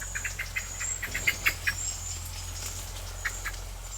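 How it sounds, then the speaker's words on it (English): Birds chirp and call outdoors in a short series of bright, scattered notes over a steady low hum, moderately close with no voices. "the birds are the first to get to the festival"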